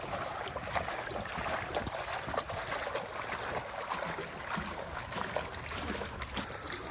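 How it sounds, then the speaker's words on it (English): Water bubbles and trickles steadily from an outdoor fountain beside a large office building in downtown Columbus, Georgia, a continuous soft splashing wash with faint street ambience and no talking. "I hear the bubbling of some water, so let's go check and see what this is"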